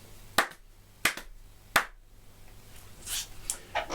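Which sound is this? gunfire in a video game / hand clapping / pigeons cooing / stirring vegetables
hand clapping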